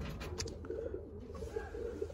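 Inbred breeding pigeons coo softly in a loft, low murmuring calls over faint background noise, with no talk.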